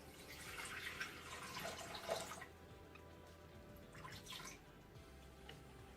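Water poured into a Thermomix TM6 bowl for making yogurt, a soft trickling and splashing pour for about two seconds, then fading to quieter dripping and faint kitchen noise, fairly quiet overall.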